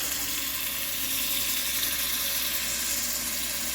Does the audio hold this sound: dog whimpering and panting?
no